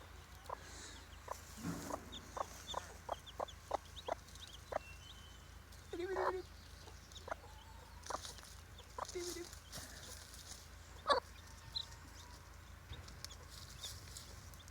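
A mother hen clucks softly in short, spaced calls while her four chicks peep around her on a quiet farm; the sounds are faint and intermittent against a low background hum.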